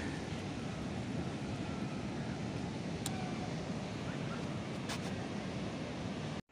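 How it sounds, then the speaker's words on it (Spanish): Broad, steady roar of surf at a beach in Rosarito, Baja California, Mexico, mixed with wind rumble across the microphone, continuous and fairly even before cutting off abruptly at the end. "ya llegamos aquí a la playa"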